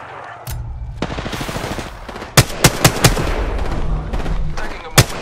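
Automatic gunfire in Apex Legends, a sustained rattling burst punctuated by several loud, sharp individual shots, close and dominant with no talk over it.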